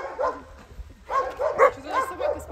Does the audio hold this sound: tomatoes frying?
no